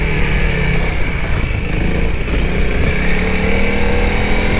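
A Honda CRF300L dirt bike being ridden on a single-track trail, its engine loud and close in a continuous buzzing drone with slight rises in revs.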